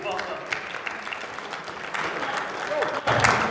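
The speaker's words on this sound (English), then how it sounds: "Let's get a round of applause, please, for Michael Buffer." Audience applause at a heavyweight boxing press conference in a large hall, a continuous patter of many hands clapping at moderate distance, swelling toward the end, with an announcer's amplified voice over it.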